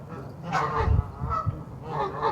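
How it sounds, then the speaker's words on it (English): Geese at a goose pond honk and squawk in a few loud, close, irregular calls, some overlapping, with no voices. "these geese squawking joyfully, living their lives peacefully, sharing this space"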